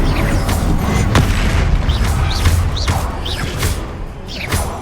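Repeated Confringo blasting-curse explosions in the Hogwarts Legacy game: loud, booming bursts with sharp attacks landing roughly every second over a dense rumbling bed of combat noise, no voices.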